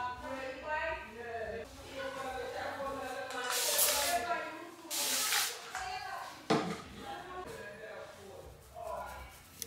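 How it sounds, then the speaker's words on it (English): A spray bottle mists water onto tight flexi-rod curls set on Sisterlocks, two loud close hissing bursts a second or so apart, with someone talking before, between and after them. "So I had to spray some water just to loosen it up so that it wasn't so tight."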